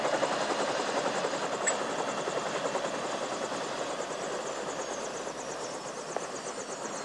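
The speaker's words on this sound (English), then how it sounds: "In spite of the helicopter's noise, the sheep appear to have made the flight here without much stress" A helicopter carrying captured bighorn sheep beats a steady, dense rotor drone that holds even and loud throughout, fading only slightly, with no voices.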